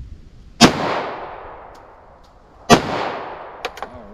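Two loud, close 9mm pistol shots firing HST hollow-point rounds into wood outdoors, each a sharp crack with a ringing decay, followed by a few faint clinks.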